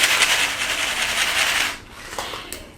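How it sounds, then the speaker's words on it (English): A bag of rice used as a shaker gives a close, dry rustling swish, shaken steadily for under two seconds, then a few softer separate shakes, with no speech. "This is a bag of rice. I don't have to tap it to make it make a sound."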